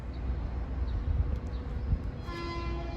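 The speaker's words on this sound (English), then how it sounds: "this is train 1617 from Huntington to New York" Commuter train 1617 from Huntington to New York rumbles steadily past Nassau interlocking in Mineola during the morning rush hour, then a loud sustained horn blast joins near the end, with no one talking.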